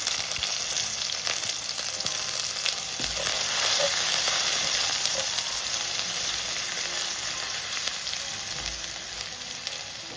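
Garlic, ginger and green chillies frying in coconut oil, a loud continuous close sizzle with crackling spits and occasional stirring scrapes, heard alone without voices.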